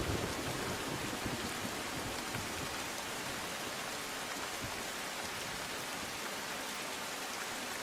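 Heavy rain pours steadily on a waterlogged street in Narol, Ahmedabad, a dense, loud and continuous hiss of downpour with no pauses.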